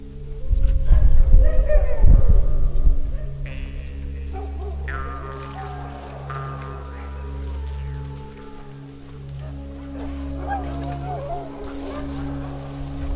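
Sled dogs in Lapland, harnessed and waiting to start, give out whines and short yelps over a steady low rumble, with a louder burst of activity early on and people talking nearby.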